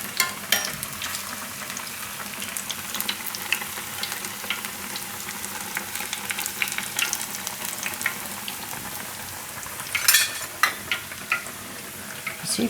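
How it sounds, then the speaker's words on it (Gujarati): Onion bread pakoda frying in hot oil, a steady close sizzle and crackle of bubbling oil with scattered sharper pops, running continuously without speech. "અને તરાવા દેવું તેલમાં."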